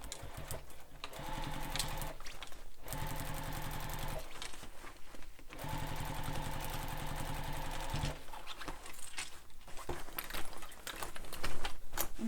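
A sewing machine stitches around a backpack in several bursts of steady mechanical rattling, each several seconds long, separated by short pauses, close and moderately loud with no talking.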